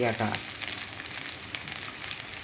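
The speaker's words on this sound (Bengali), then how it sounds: "একটু লবণ দিয়ে দিলাম পেঁয়াজটা ভাজার জন্য" Onion fries with salt in a pan, a dense continuous sizzle with crackling pops, moderately loud and close, with brief stirring noises at the start.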